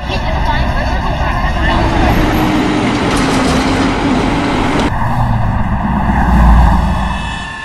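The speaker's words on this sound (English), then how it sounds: "Garbage trucks, honking horns, motorcycles, sirens?" Dense city traffic in Raleigh, North Carolina rumbles continuously with engine drone and passing vehicles, loud and steady, while a voice speaks over the noise.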